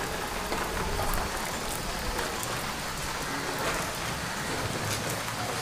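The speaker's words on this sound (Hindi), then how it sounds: "बारिश हो रही है बाहर" Steady rain falls outside during the monsoon, a dense even hiss of drops on surfaces with scattered louder patters, continuous and close, with no voices.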